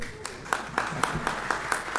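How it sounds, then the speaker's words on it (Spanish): An audience at an official event, held for a deputy mayor of Lima, claps in an evenly spaced rhythm, moderately loud and filling the room. "Para los aplausos."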